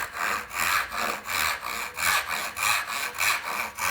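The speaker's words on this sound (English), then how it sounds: "I'm going to do is cut this off with a crosscut saw" A crosscut saw cutting wood for a dovetail: steady rhythmic rasping strokes, about eight back-and-forth passes at an even pace, close and clear with no talking.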